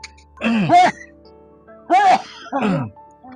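Three harsh, throaty coughs from a woman struggling to cough and breathe, close and loud, with short pauses between them and quiet in between.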